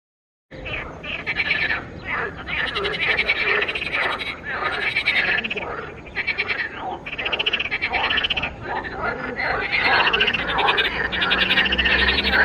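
Frogs croak in dense overlapping bursts beside a healthy river in Lankaran, Azerbaijan. The chorus runs loud and continuous throughout, with a few bird calls mixed in.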